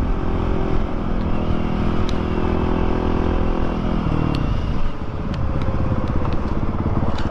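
A Honda CRF450RL motorcycle on a test ride on trails, engine running loud and close throughout with a steady drone that shifts pitch as the throttle changes, plus some clatter and wind, no talking.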